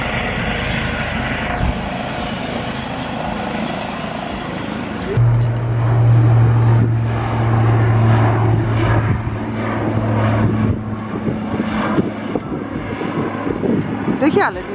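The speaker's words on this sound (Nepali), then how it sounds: "Look at the jet plane." A jet plane passes over an RAF airfield in the UK, its engine roar heard as a continuous loud rumble that swells around the middle and slowly fades, with people talking over it.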